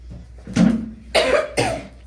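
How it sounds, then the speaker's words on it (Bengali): Three harsh coughs from one person, close by, the first followed by a short pause and the last two in quick succession. "কি কাশি"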